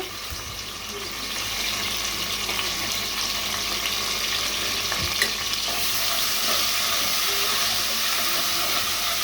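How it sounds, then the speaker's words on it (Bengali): Bay leaves, cardamom, cinnamon, cloves and ginger paste hit hot oil with a loud, continuous sizzle and steamy hiss, with occasional utensil scrapes and taps as the spices are stirred. "আমি এখন মশলাগুলো দিয়ে দিব। এখানে তেজপাতা, এলাচ, দারচিনি, লবঙ্গ এবং আদা বাটা,"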